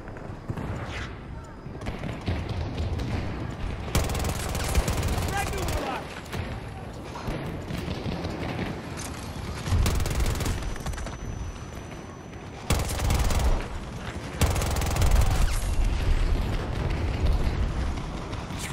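Rapid K30 submachine gun fire in a Battlefield 2042 Breakthrough match, loud bursts repeating in clusters over an ongoing battle din with other weapons and explosions, a player's voice talking at times.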